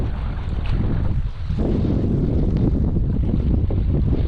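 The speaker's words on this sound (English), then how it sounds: "with the wind and the waves" Strong wind roars across an Arctic lake with waves churning and splashing, a loud, steady wash of noise that buffets the microphone throughout, with no voices.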